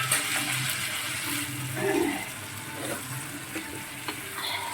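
Onion paste frying in a pan for mutton keema, a soft, close sizzle with occasional stirring scrapes and wet bubbling.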